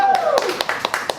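Several sharp, evenly spaced hand-clap bursts fired from an applause sound pad, loud and close, with a falling tone trailing off at the start.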